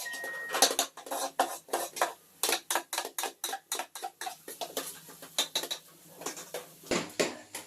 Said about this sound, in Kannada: ಆಲೂಗಡ್ಡಿ ನೈಫ್ ಯೂಸ್ ಮಾಡಿ ಕಟ್ ಮಾಡ್ರಿ